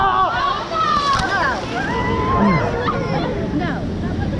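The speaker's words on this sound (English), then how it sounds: "We're gonna get the waterfall!" A water park ride's waterfall pours and splashes onto riders at Busch Gardens Tampa on a hot day, a steady loud rush of water under excited shouting and chatter from the riders.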